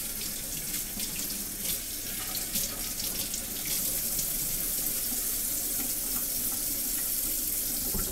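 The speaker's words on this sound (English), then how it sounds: "Let me rinse it off." Tap water runs steadily into a sink as something is rinsed under it, a dense, close hiss that grows slightly fuller partway through, with no speech.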